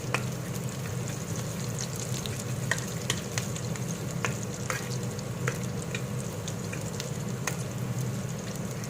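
Onions fry in oil for an Assamese fish curry, giving a constant, close sizzle broken by scrape-and-stir sounds of a spoon in the pan, with nobody talking.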